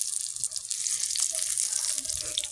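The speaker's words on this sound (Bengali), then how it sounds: "এই যে বেগুন ভাজা করছি এখন" Eggplant fries in a pan with a bright, steady sizzle that stays close and even throughout the short stretch, with a faint voice in the background.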